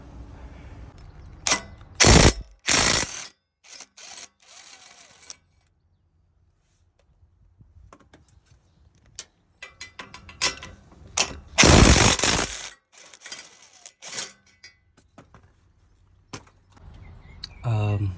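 A ratchet working on bolts underneath a turbocharger on a 2013 Toyota Land Cruiser, heard as close clicking bursts and sharp metallic clanks with short quiet gaps between them.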